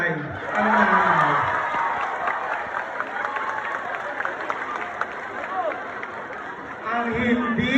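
Audience applause and crowd noise at a Miss Gay pageant national costume segment in Bulakan, Bulacan, a steady clapping wash that rises near the end, heard under an emcee's voice at the start and close.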